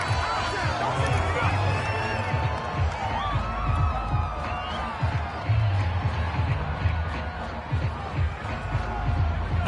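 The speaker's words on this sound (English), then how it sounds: "That's why you hear that clapping on the sidelines, right?" Crowd noise from the sidelines in a PS4 American football video game, a broad murmur with some cheering, heard under continuous commentary.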